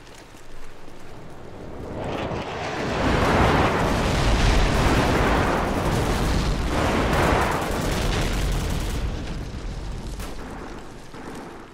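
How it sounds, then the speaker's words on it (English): Airstrike explosions in Call of Duty 4 roll out as a continuous, loud rumbling barrage of blasts that swells through the middle and slowly eases off, with no talking. "Friendly airstrike on the way!"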